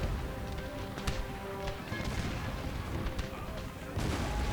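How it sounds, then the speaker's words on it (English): Six-pounder field guns keep firing in a Napoleon: Total War battle, sharp distant booms scattered through a dense roar of musketry and clashing cavalry, with a voice talking over the din. "6-pounders in the back there, still firing."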